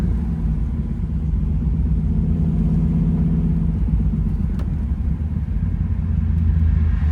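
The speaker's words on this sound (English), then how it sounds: "Nothing better than that chain ring exhaust on this car." A 1969 Chevrolet Camaro Z/28 with a 302 V8 and chambered exhaust rumbles steadily at a low, heavy idle or cruise, a constant deep engine drone with no voices.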